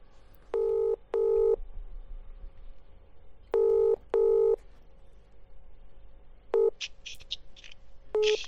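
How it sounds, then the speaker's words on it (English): A phone rings during a podcast recording in short, evenly spaced electronic double tones, one pair, a gap, another pair, then a single tone, over faint room noise, with no talking. "Someone's actually ringing me."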